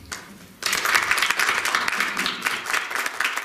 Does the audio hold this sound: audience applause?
yes